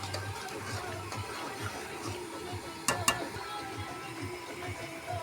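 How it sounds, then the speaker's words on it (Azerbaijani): A pot of water boils on the stove, a soft, steady bubbling and hiss at low volume, with two sharp clinks partway through; no one speaks. "suyum da gözəl qaynayır"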